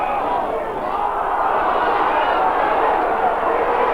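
A football crowd at a 1996 Australian rules match roars in a steady, dense wash of excited noise, loud and sustained throughout with no single voice standing out.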